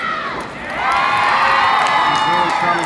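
A wrestling crowd at an independent pro wrestling show cheers and shouts in a steady, loud roar that swells after a brief dip and holds, sounding broad and close around the ring.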